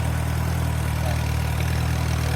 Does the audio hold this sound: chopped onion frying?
no